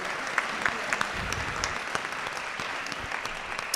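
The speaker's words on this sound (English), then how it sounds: "round of applause. Thank you to our sponsors." An audience at a civic leadership event applauds the sponsors, steady, moderately distant clapping from a room full of people, with a few sharper individual claps standing out.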